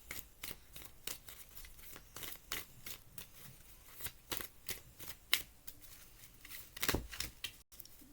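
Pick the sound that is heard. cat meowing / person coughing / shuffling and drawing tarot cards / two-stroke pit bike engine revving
shuffling and drawing tarot cards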